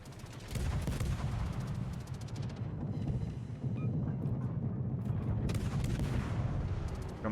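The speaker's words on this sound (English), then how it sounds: "See? Battleship shooting." Battleship artillery firing in World of Warships: heavy booming salvos and sharp repeated gun blasts, loud and dense throughout, with a brief lull partway through.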